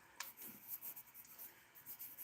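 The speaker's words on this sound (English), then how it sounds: "I'm going to write that down." A pen scratches across paper, very faint and close, in a quiet room with a soft continuous scratchy rasp and a sharper tick near the start.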